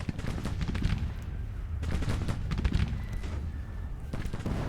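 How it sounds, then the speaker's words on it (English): Massed musket volleys from Civil War infantry in a strategy game crackle and roll in repeated waves of overlapping shots. The steady battlefield din carries on at moderate distance with no voices over it. "What I am trying to do is to weaken that artillery with some concentrated fire from units like Bartow"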